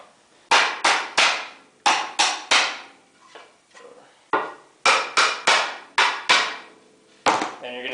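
A hammer pounds nails out of pallet boards set on a vise block, sharp ringing blows coming in quick groups of two to four, loud and close, with short pauses between groups.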